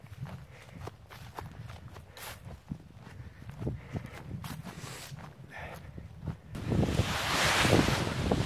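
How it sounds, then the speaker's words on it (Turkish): Wind gusts buffet the microphone on a hilltop near Hisarcık village, Bilecik, building to a strong rush near the end, over scattered footsteps and low rumbling. "Vay, rüzgar çıktı be."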